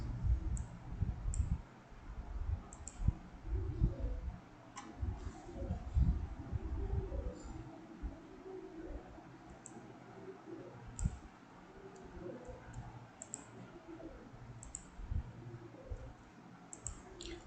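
Faint, quick mouse clicks scattered at irregular intervals during computer setup work, light and close over a low background hum.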